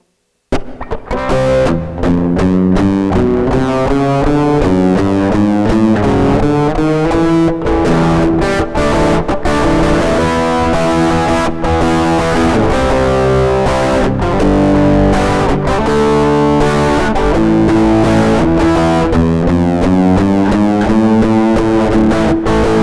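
Electric guitar with heavy distortion plays a passage, loud and sustained, with ringing chords and bent notes carrying on continuously for over twenty seconds without any voice.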